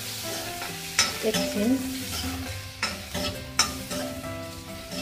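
Chopped onion frying with cumin seeds in a pan while it is stirred, giving a steady sizzle with scraping stirs and a few utensil knocks, close up. A brief spoken word is heard.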